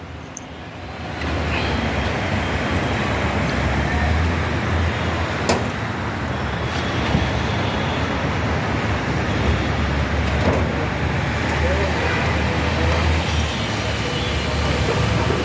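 A 2014 Toyota Aqua G engine runs with a steady, even hum and a broad rushing noise, continuous and fairly close throughout.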